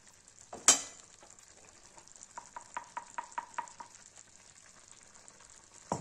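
A sharp clatter, then a soft sizzle of onion and garlic puree frying in a pan, with a quick run of light taps as it is stirred.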